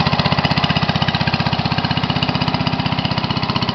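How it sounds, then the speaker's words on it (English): Engine of a custom multi-purpose vehicle built entirely from scrapyard parts, for parking trailers and moving vehicles, idling close by with a rapid, even, chugging pulse, loud and alone. "it's a multi-purpose vehicle that can be used to park trailers"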